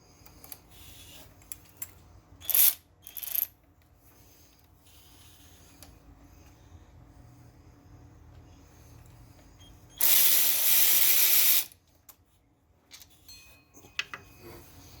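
Ratchet wrench turns a 13 millimeter nut on a Chevy truck, giving short clicking bursts, then a longer loud ratcheting run of about two seconds, followed by a few faint ticks in an otherwise quiet garage.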